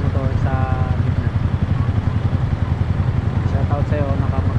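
Motorcycles sit idling at a traffic light in Taoyuan, Taiwan, a loud, close, low rumbling engine drone throughout, with a few brief higher engine revs or horn-like tones and some street noise mixed in.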